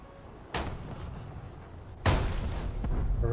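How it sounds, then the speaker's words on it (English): Rockets strike targets in War Thunder with two sharp, loud blasts about a second and a half apart, each followed by a lingering rumble. "my rockets are hitting something"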